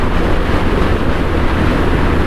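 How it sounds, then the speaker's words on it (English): Strong wind roars across the microphone on a 1991 BMW K100LT with a DJP sidecar while riding, a dense, constant rushing buffet with no letup. "This wind's coming that way, and it's really blowing the bike to the right even more."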